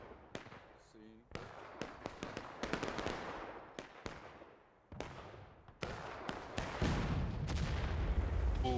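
Cannon fire in the Civil War video game War of Rights, several sharp booming shots with rumbling echoes in quick succession, amid crackling gunfire on a hilly battlefield.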